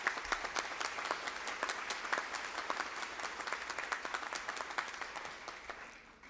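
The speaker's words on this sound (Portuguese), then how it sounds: "E eu peço a vocês uma salva de palmas para eles que estão aqui presentes." At a public hearing, an audience claps for councillors. The applause is dense and steady, then thins slightly at the end.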